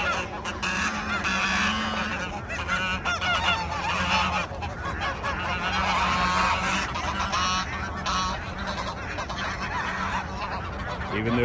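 Pet geese honking loudly and continuously while they eat, a dense, close flock of overlapping nasal calls that keeps going without a break.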